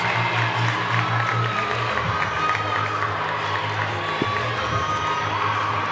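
Arena crowd at a college gymnastics championship cheering and clapping after Dara Williams' uneven bars routine, a sustained roar of applause with shouts mixed in, steady and loud across the whole stretch.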